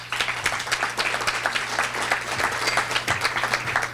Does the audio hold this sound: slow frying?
no